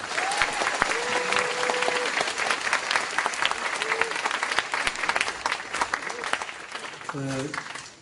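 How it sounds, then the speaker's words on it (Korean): Audience applause at a Korean lecture event, steady dense clapping filling the hall for several seconds after a guest is introduced, with brief voices and tones rising over it near the end. "여러분 큰 박수 부탁드립니다"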